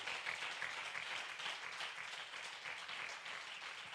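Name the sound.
church congregation applauding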